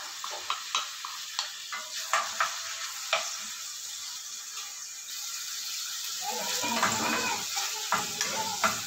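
Okra, string beans, bitter gourd and greens tossed with tomato, garlic and onion in a pan, light clinks and taps of a spatula at first, then a louder sizzle of stir-frying building near the end.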